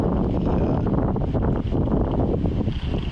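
Strong wind buffets the microphone outdoors on a breezy day during a street run with a Losi 22S short course RC truck, a steady, loud rushing roar that fills the whole stretch without letup.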